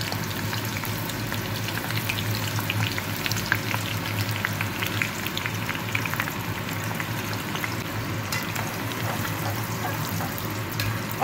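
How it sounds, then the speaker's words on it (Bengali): Onions fry in hot oil for a Kolkata-style chicken biryani, a steady close crackling sizzle with dense popping that runs unbroken, no voices. "এর মধ্যে আস্তে আস্তে অল্প অল্প ব্যাচে পেঁয়াজগুলো ছেড়ে দেবো।"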